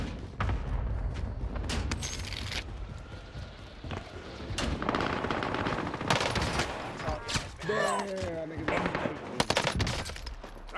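Gunfire in Call of Duty Warzone on Rebirth Island, with an assault rifle in use: dense near and distant shots and bursts run throughout, mixed with game effects and voices.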